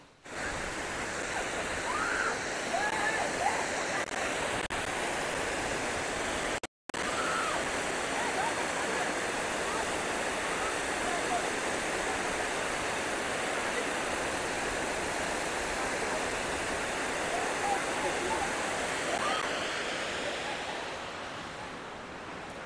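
Water rushes over the Janjavathi rubber dam near Parvathipuram. A loud, continuous roar fills the whole stretch, broken only by one very brief dropout, and fades slightly at the close.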